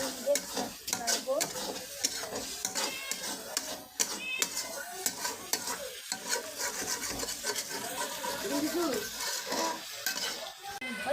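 Eggs sizzle loudly in a pan of bhuna khichuri masala while a spatula stirs and scrapes against the metal in a busy, irregular rhythm, with faint voices in the background.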